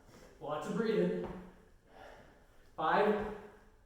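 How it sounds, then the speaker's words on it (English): Heavy, forceful breaths during an interval training workout, two loud gasping exhalations and inhalations close to the mic, separated by a brief quieter pause. "Lots of breathing."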